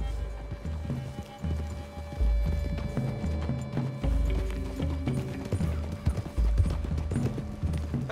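Horses' hooves in Red Dead Redemption 2, a close, rhythmic clip-clop of several horses moving at a walk or trot through woodland, with occasional snorts over a low ambient bed and no talk.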